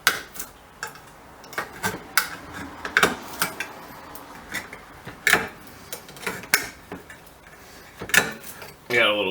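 A thin survival knife cuts open a metal food can with a string of sharp metallic clicks, scrapes and taps at an irregular rhythm, close and fairly quiet, with someone talking over parts of it.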